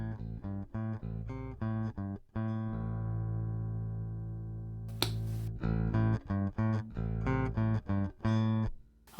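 Harley Benton 25th Anniversary Firemist bass guitar played with its pickups coil-split, sustained notes and plucked phrases ringing clearly and alone at a fairly quiet, slightly reduced volume.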